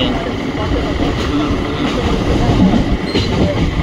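A crowded train ride: a loud, steady rumble of a moving railway carriage with rattling wheels and muffled crowd noise throughout.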